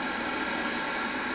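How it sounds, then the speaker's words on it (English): The vacuum pump of a Duratool desoldering station runs with a steady, faint hiss and hum, continuous and unchanging, with no voices. "you can probably hear the vacuum pump going in the background"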